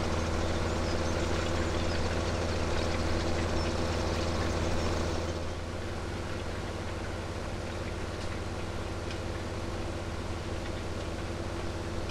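A tractor engine in a farming video game runs with a loud, steady droning rumble, dropping slightly in level partway through and continuing as an even, unbroken hum.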